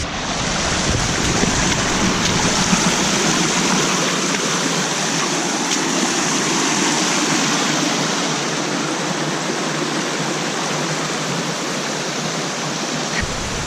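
A cold mountain stream in Switzerland rushes past nearby in a dense, steady wash of flowing water with no pauses, heard on its own without any talking.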